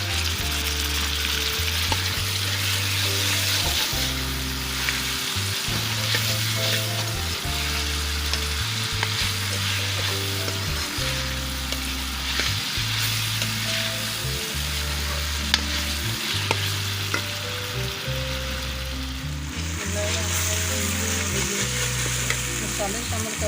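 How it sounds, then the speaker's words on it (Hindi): Tomatoes sizzle and fry in a pan for a chicken handi gravy, a constant loud crackle with stirring scrapes, while a low hum runs underneath. "ये टमाटर शामिल कर रही हूँ।"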